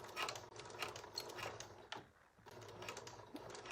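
A sewing machine stitching a flat felled seam in jeans fabric, its quick mechanical whirring and clicking running steadily, close and fairly quiet, with a brief pause midway before it picks up again.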